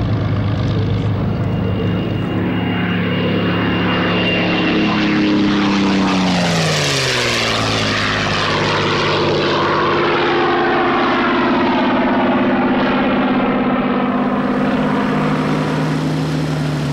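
Warbird propeller aeroplanes, including wartime fighters, fly past at the Warbirds Over Wanaka airshow, a loud droning piston roar whose pitch sweeps down as one passes close overhead, then a steady engine drone continues.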